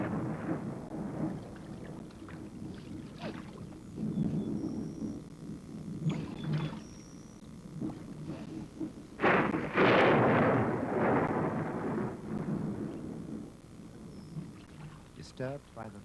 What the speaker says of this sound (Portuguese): Assustada pelo trovão